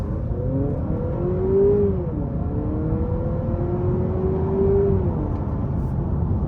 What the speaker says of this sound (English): Here's another example of the takeoff on this car.